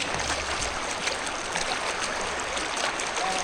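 A cold river stream flows steadily beside hot pots at a rainy treehouse stay near Chiang Mai, Thailand, a constant broadband rush of water close by with no break, heard alone.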